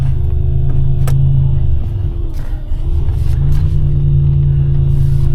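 A 1986 Buick Grand National with its turbocharged engine under boost gives a loud, steady low rumble while driving. The tone dips briefly, then settles back into a continuous close-up drone.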